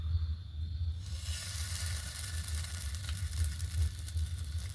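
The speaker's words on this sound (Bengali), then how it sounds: "প্রথমে পরোটাগুলো একটু সেঁকে নেব" Jaggery-stuffed parathas toast in a lightly heated kadai on a lit stove, giving a soft, steady sizzling hiss over a low background hum, with no talking.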